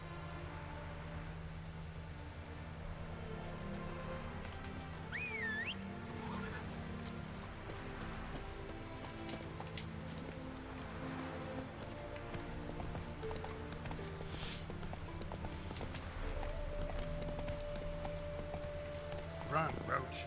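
Roach, a horse in the video game The Witcher 3, galloping with hooves clip-clopping continuously at moderate level over steady game ambience, with a brief whinny-like tone partway through.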